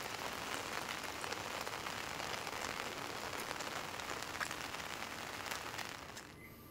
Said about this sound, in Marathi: नवजा येथील हा प्रसिद्ध ओझरडे धबधबा ओसंडून वाहू लागलाय